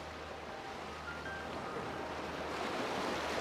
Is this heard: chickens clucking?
no